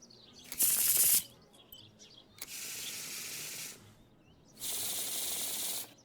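Cards shuffled in the Martha Is Dead video game, three separate hissing riffle bursts, each lasting about a second, with short pauses in between.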